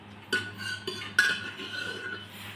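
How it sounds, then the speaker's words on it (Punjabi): Cooked vegetables being scooped out of a metal pot, a few sharp metallic clinks and scrapes of a spoon against the rim, close by in a quiet kitchen with a low background hum. "ਸਬਜ਼ੀ ਕੱਢਦੀ ਆ ਮੈਂ ਹੁਣ ਪਤੀਲੀ ਚੋਂ"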